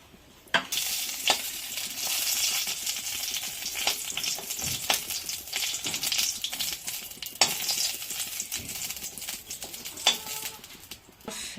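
Bay leaf and dried red chili sizzle in hot ghee in a pan, a steady crackling hiss starting sharply after a brief quiet moment, with scattered pops and faint scraping throughout.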